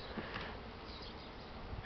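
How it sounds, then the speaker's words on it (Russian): Spring honeybees flying in the open air around their hive, a steady soft buzzing hum that stays faint and continuous throughout, with no talk. "И вот гляжу, летают пчелы"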